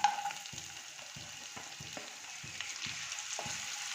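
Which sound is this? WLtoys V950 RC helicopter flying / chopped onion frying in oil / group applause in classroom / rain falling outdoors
chopped onion frying in oil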